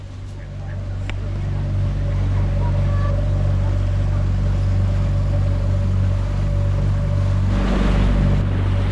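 A motorboat runs steadily on the Mosoni Danube, its engine a loud continuous drone with water and wind noise, and voices talk over it.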